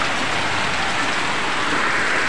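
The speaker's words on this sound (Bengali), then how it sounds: "দেখতেই পাচ্ছি কী পরিমাণে বৃষ্টি হচ্ছে" Heavy rain pours down steadily in a continuous dense hiss, loud and close, with no speech over it.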